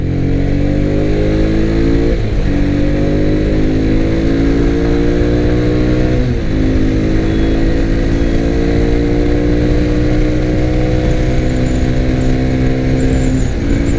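A 2021 Mahindra Mojo 300 ABS BS6 motorcycle engine pulls hard on a highway bypass in a top-speed run, loud and close, its rising drone broken by two gear changes before climbing again.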